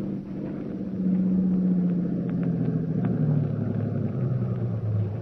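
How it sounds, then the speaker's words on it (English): A car engine rumbles in a radio drama sound effect, a vehicle coming down a road from a house at night, its low motor drone swelling and holding steady with a shifting pitch as it approaches. "Wait in the darkness for the car coming down the road from the house."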